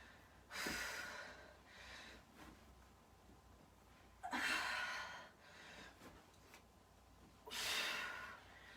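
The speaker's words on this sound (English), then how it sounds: "you can hear me gasping for air" Heavy breathing during an exercise workout, heard as three loud bursts of gasping exhalation spaced a few seconds apart, with quieter breaths in between and no talk.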